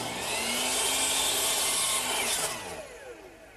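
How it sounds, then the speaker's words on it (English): A saw makes a single trial cut through wood at a kitchen work table build. It is a loud, steady, close rasping whine that holds for over two seconds, then fades as the blade winds down. "I'll make a cut about 1/8 of an inch away from my line to see how it is,"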